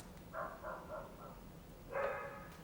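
A dog barks in a quick run of four or five moderately loud barks, then pauses before one stronger, sharper bark near the end, all in an indoor room with low background hiss.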